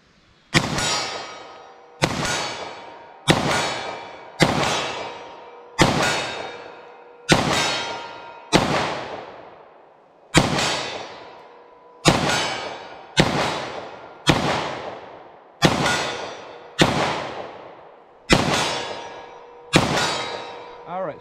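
.40 S&W pistol firing 155-grain rounds: about fourteen loud, sharp shots, each with a ringing, decaying tail, spaced fairly evenly over about twenty seconds.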